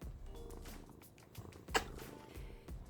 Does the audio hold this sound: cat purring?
yes